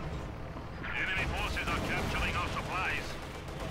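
In a Company of Heroes 2 battle, tank gunfire from a Panzer IV and T-34s rumbles under a commentator's continuous talk, with dense booming shots and shell impacts mixed throughout.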